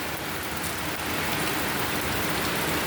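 Steady rain pours down on a shop's surroundings, a dense, even hiss of drops striking surfaces close by, continuous and loud with no voices.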